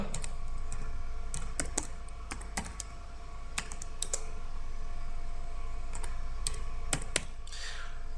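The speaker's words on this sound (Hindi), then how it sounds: "इसके लिए मुझे डोमेन नेम टाइप करना होगा।" Domain name typed on a computer keyboard: a steady run of crisp key clicks in irregular bursts, close and clear, with no talking.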